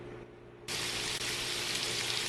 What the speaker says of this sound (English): we got her sizzling up here